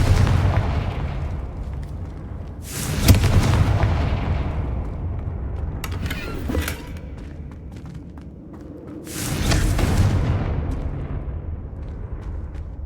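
Confringo blasting spells explode in Hogwarts Legacy, three separate booming bursts a few seconds apart, each loud and sudden with a rumbling decay, over low ambient background.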